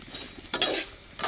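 Whole Byadgi chillies frying in a pan while being stirred, soft sizzling with light scraping and clinks of the spoon against the metal, close and fairly quiet.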